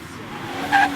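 A Toyota GT86 accelerates hard out of a hairpin and slides sideways, a brief engine note rising into a short tyre squeal near the end, heard from inside over faint background.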